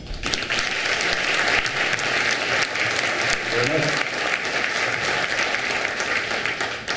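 Audience applause fills a township community event as a speaker is welcomed to the stage, steady and dense clapping throughout, loud and sustained with a few voices mixed in.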